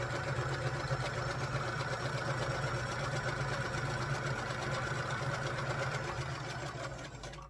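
A domestic sewing machine stitches quilt pieces together in a fast, even mechanical whir that runs without pause, then slows and stops at the end. It is close and loud, with no talking.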